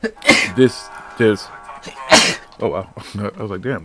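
A sharp sneeze bursts out close by near the start. People keep talking around it.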